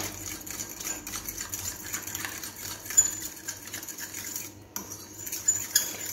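Chopped onion and boiled potato pieces are mixed in a bowl, with light, irregular clinks and scrapes of a utensil against the dish under a soft background hiss.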